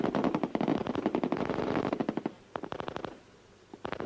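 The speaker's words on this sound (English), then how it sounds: "Machine guns and SLRs in a clattering broadside." Machine guns and SLR rifles fired together in a clattering broadside during a weapons test in the Falklands, rapid dense bursts of shots in quick succession, then sparser short volleys with a brief pause.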